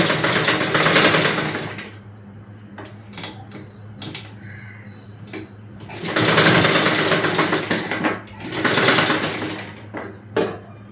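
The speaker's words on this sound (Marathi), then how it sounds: "याला सुद्धा इथे अशी सरळ शिलाई मारून घ्यायची" A sewing machine stitches an eight-panel saree petticoat in loud, rapid mechanical bursts that start and stop across the clip, with a few softer clicks and handling sounds between the runs.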